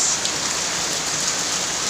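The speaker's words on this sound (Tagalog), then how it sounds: "ayan lakas ng ulan guys" Heavy rain pours steadily in a dense, constant hiss, close and loud, with no breaks throughout.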